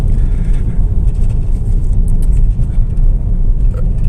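An MG ZS hybrid SUV drives with its petrol engine cutting in alongside the electric motor through an automatic gearbox, giving a steady, loud low rumble of engine and road noise that continues throughout with no voices.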